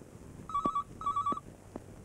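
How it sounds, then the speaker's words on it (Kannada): An electronic telephone ring sounds in two short trilling bursts, with a faint tone after, fairly close in a quiet indoor room during a prank call scene in a Kannada thriller film. "ತರ್ಲೆ ಫೋನ್ ಇದೊಂದು ನಮ್ಮ ತಲೆ ಕೆಡ್ಸಕ್ಕೆ"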